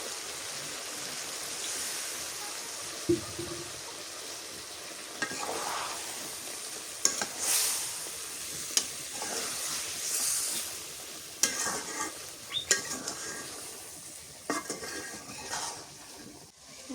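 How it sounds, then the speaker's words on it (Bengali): Bottle gourd greens and beef being stir-fried in a pan give a steady sizzle, with a scattering of scrapes and knocks from stirring spread through the clip and no speech over it. "শাকের ডাঁটা আগে দিয়ে দিলাম, এবার একটু কষান করে নিই"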